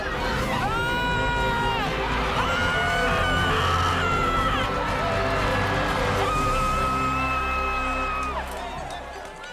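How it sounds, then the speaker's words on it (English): A loud home crowd at a high school football game on Maui screams and cheers continuously for several seconds, with shrill children's whoops rising over a dense roar of voices. "The Dragons lost their inaugural game, but gave the home fans plenty to cheer about."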